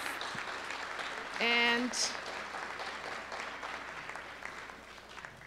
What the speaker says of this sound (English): Let's give a round of applause to our distinguished panelists.